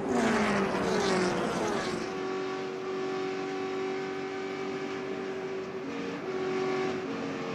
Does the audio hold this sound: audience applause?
no